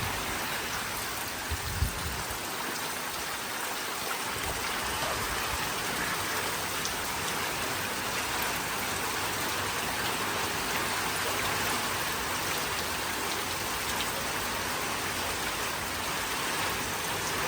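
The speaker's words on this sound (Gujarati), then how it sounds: "અત્યારે જો કેટલો પવન અને સાથે સાથે વરસાદ છે" Steady, dense rain hisses without pause, with a low rumbling wash underneath that suggests gusting wind; no voices.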